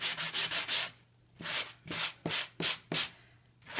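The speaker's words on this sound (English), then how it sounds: "by gently working with your sanding tool, you're just removing that top layer off of the Coordinations cardstock" A handheld sanding tool is rubbed over Coordinations cardstock die cuts to wear away the top layer, making about nine short, soft rasping strokes in an uneven rhythm, close and quiet.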